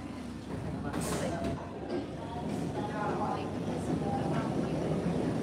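An MBTA Red Line subway train stalled with a propulsion fault, a steady loud rumble and hum of the car interior with brief clanks, while people talk over it.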